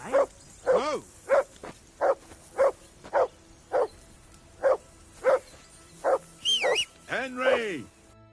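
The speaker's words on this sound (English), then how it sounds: "Whistle at that mutt of yours to stop barking." A dog barks over and over in an even, steady rhythm, about a dozen clear barks at moderate distance, ending in a few higher, whining yelps.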